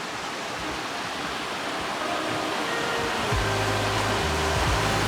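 Steady rushing of a river heard from a room at Namari Onsen's Fujisan Ryokan, a constant broadband wash with a low hum joining partway through.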